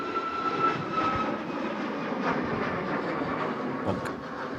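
Airliner landing in gusty storm winds at Manchester Airport, a steady broad engine roar with wind rush, moderately distant and fairly constant throughout.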